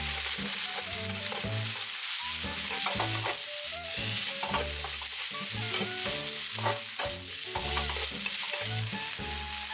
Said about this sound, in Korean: 이때 준비해뒀던 시금치를 넣습니다. 그리고 볶아주세요.